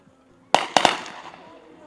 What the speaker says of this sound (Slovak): Samopal strieľa krátkými dávkami